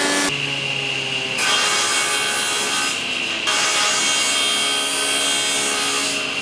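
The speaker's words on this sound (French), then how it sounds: "c'est la dégauchisseuse qui donne les premières formes au bois" Steady, loud jointer whine with a rough wooden rasp as a board feeds through the cutter in a workshop, the pitch shifting slightly midway; no talking.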